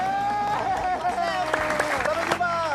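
A television studio audience at a stand-up comedy battle show applauds, with dense clapping and crowd noise under music and a voice, sustained and fairly loud throughout.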